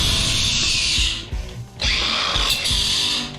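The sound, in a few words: cordless grinder working on scrap brass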